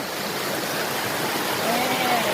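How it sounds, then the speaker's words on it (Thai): A small waterfall in Korea rushes steadily in the early morning, a loud, continuous broadband wash of flowing water with no pauses. "มาดูน้ำตกน้อยๆนะคะ"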